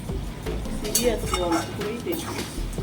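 Desi chicken sautés in oil in a pan, a soft sizzle under scraping and clinking of a spoon against metal as it is stirred, with a voice speaking throughout.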